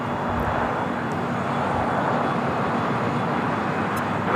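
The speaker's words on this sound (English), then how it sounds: "Taking off to Tokyo Narita on a 777 freighter." A Boeing 777 freighter takes off bound for Tokyo Narita from LAX, a steady, broad roar of jet engines holding at constant loudness throughout, heard from a distance with no talk.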